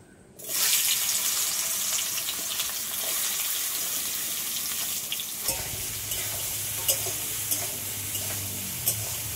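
Oil sizzles loudly as taro stolons are dropped into a hot pan and stirred, with a steady crackle and occasional scrapes.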